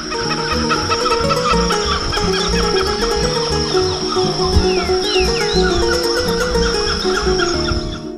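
A bird's distinctive call carries over a dense chorus of insects and other birds, loud and sustained with repeated clucking notes.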